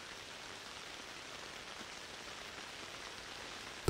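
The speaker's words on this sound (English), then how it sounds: "The relaxing sound of raindrops tapping and spraying the tent" Rain patters on a tent's shiny material in a soft, even, continuous hiss of drops, faint and steady until a sudden louder bump at the very end.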